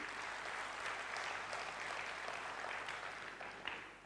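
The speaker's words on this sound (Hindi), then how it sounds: "जोरदार तालियां बजाएं अपने लिए" A large seated audience at a spiritual workshop applauds itself, a steady wash of clapping at a fair distance that holds evenly for several seconds and then tapers off.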